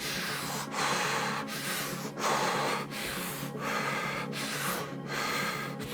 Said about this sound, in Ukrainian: Повний вдих, видих прискорюємося, накачуємо себе максимально кислим, наскільки це можливо.